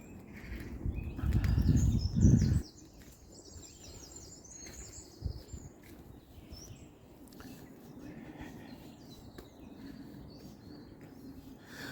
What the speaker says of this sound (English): just listening to the birds chirp and everything